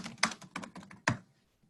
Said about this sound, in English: I'm sorry if you all had to listen to me typing there